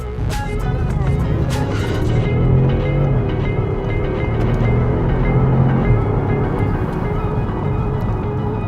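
An Audi S7 accelerating onto a road, a loud sustained engine roar with rising and falling drone heard from inside the cabin, with no one talking.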